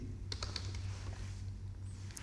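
Computer keyboard keys tapped in a quick, close burst while code is entered for a Solidity smart contract in the Remix editor, crisp clicks over a quiet room.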